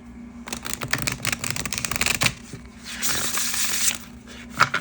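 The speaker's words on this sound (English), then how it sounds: "let's shuffle" A large deck of animal tarot cards is shuffled by hand, a dense run of quick riffling clicks and flutters up close, followed by a softer rustling sweep and a final snap.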